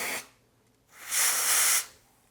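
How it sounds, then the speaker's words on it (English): A can of cold spray hisses on sugar decorations being glued to an Easter wheelbarrow cake, first a short burst, then after a pause a longer, louder steady blast of about a second, close up. "I'm using cold spray"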